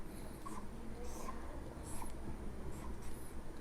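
Chalk or a marker scratches across a board during a chemistry lecture on catalysts in chemical kinetics, with short strokes at an irregular pace under the lecturer's ongoing voice.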